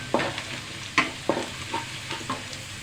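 Whole spices, bay leaf, cinnamon, cloves and cardamom, frying in oil, heard as a soft sizzle under several sharp scraping stirs spaced about half a second apart.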